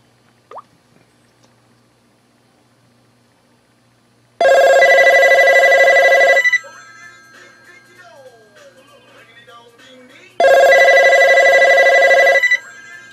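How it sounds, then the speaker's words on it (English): Panasonic RC-T340D clock radio telephone ringing with its ringer set to high: two loud, steady electronic ring bursts about two seconds each, separated by a quiet gap with faint handling sounds. "That's a ringer on high."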